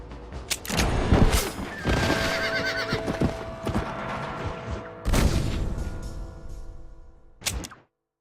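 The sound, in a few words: horse galloping in video game Red Dead Redemption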